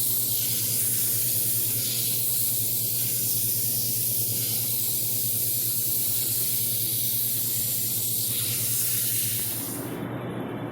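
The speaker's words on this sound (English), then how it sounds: "I'm going to take some sandpaper, and I'm just going to sand it." Sandpaper held against a wooden tree stump spinning on a lathe, a steady loud hissing rasp over the constant low motor hum, continuing evenly before easing off at the end.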